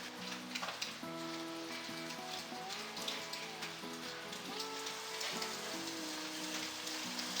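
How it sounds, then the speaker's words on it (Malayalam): Pettiyappam dough pieces deep-frying in hot oil, a steady soft sizzle and crackle that holds evenly throughout, with faint kitchen clatter. "ഇനി ഇത് കുറേശ്ശെ ആയിട്ട് എടുത്തിട്ട് ഫ്രൈ ചെയ്തെടുക്കാം."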